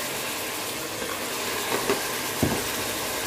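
Chicken biryani masala sautés in a pan with a steady soft sizzle throughout and a couple of faint stirring scrapes.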